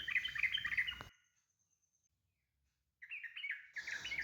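A yellow-vented bulbul (burung trucukan) gives a quick burst of bright chirps, goes silent for about two seconds, then starts a fresh run of chirping. The calls sound close but quiet, with no voices.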